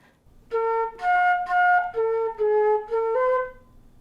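A flute plays a measure of a song, a run of about seven clear, sustained notes played close and alone, each held steadily before moving to the next pitch.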